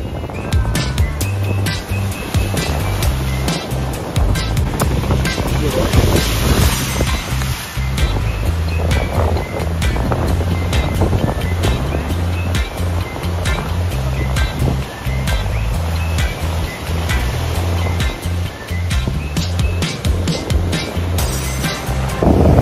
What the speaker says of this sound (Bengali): এই ঝড়ের ফলে সমুদ্র অন্য রূপ ধারণ করেছে।